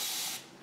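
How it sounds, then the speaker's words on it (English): A mister spray bottle gives a quick, close hiss of fine spray over artificial poinsettias, then fades away. "I'm gonna spray them"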